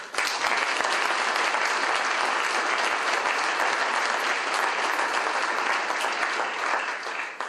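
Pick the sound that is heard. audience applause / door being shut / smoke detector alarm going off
audience applause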